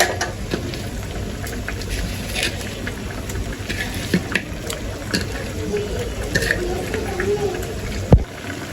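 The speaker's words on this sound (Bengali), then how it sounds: "তরকারিটা কিন্তু আমার বলক আসা পড়ছে" A pot of vegetable curry with beans, potato, carrot, cauliflower and radish comes to a boil on the stove, giving a steady bubbling churn close by, with a sharp knock near the end and a voice talking over it.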